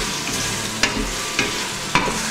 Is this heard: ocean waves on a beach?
no